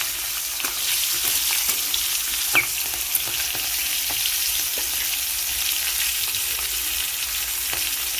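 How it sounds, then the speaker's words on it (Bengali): Cumin seeds and green chillies sauté in hot oil, a steady close sizzle with scattered crackles and pops and occasional stirring scrapes throughout. "এবার সামান্য কিছুক্ষণের জন্য একটু আমি সাঁতলে নেব, যাতে জিরে আর লঙ্কাটা ভালো করে একটু চটে যেতে পারে।"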